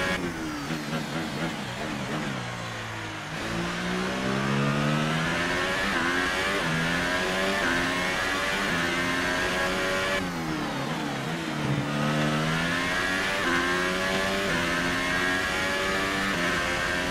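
A racing car engine in a Grand Prix video game revs hard, its pitch climbing repeatedly through the gears with brief drops at each shift, loud, close and continuous with no voices.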